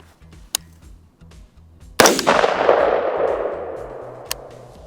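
A single loud rifle shot fired while sighting in a cheap $40 Amazon scope outdoors, a sharp crack followed by a long rolling echo that fades over a couple of seconds, with faint clicks around it.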